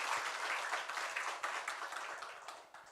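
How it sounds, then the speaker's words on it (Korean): A church congregation applauds during a Korean Sunday worship service, a dense, steady wash of many hands clapping that slowly fades toward the end. "우리 하나님께 영광의 박수 올려드리겠습니다."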